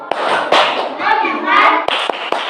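Children in an Indonesian classroom chanting and clapping in rhythm, a patterned clap cheer, with sharp hand claps punctuating loud group voices close by.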